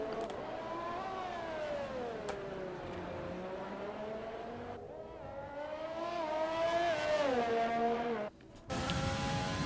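A Formula 1 car on the Hanoi circuit in Codemasters' F1 racing game: a loud, close engine whine holds steady, then rises and falls with the gear changes, and a brief dropout comes near the end.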